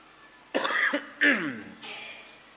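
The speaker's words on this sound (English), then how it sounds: "Everyone is getting this cough, eh?" Three harsh, close coughs in quick succession, the last one softer and breathier.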